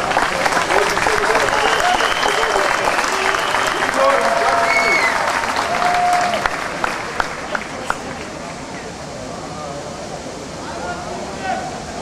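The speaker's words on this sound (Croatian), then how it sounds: "Ajmo sada jedan veliki aplauz" A large outdoor crowd gives loud, dense applause at the traditional bridge-jumping contest from the railway bridge over the Djetinja river, with a voice over it; the clapping thins and fades in the last few seconds.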